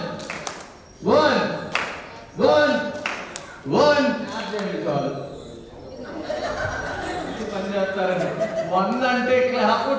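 Hands clapping during a game at a birthday party: a few sharp, separate claps ring out among laughter and lively voices talking nearby.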